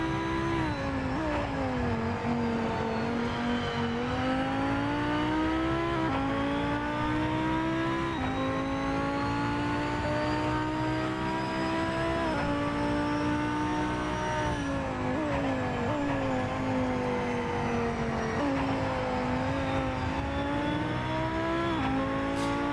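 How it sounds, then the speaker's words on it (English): Lamborghini GT2 race car in a racing video game: a steady, loud engine drone shifting in pitch through gear changes and throttle swells, continuous with no talk. "Lamborghini does sound nice."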